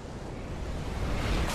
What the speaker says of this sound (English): A storm's coming. I know. The waves are getting steep.